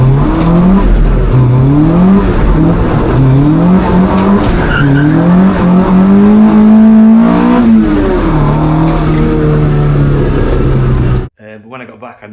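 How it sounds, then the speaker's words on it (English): A Toyota AE86 engine with Keihin FCR carburettors revs hard with rising and falling pitch as tires skid and squeal through repeated donuts, loud and close, ending abruptly. "did some shitty donuts, of which I'll insert a clip"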